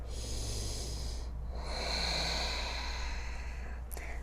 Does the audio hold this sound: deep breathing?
yes